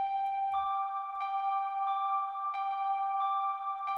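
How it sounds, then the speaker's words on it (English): Bell tones play a sustained fifth, soft and ringing, with gentle new strikes roughly every two-thirds of a second layering over a steady held drone. "There's also this thing that's creeping up, the bells"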